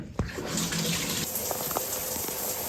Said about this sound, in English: I'm about to take a quick shower